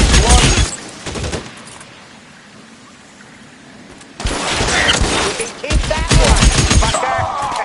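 Gunfire from the LA Noire video game erupts in loud, dense bursts, drops to a quiet lull for a few seconds, then returns as sustained rapid shooting with sharp impacts.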